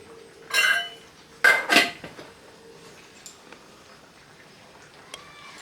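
A pot of shukto dal is handled on the stove after sugar is stirred in, giving a few sharp metallic clanks and scrapes in quick bursts, then faint scattered clinks in a quiet kitchen.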